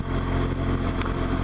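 A BMW R1200GS motorcycle engine hums low and steady while riding into the town of Hawes in the Yorkshire Dales, a continuous close drone with a brief faint click partway through.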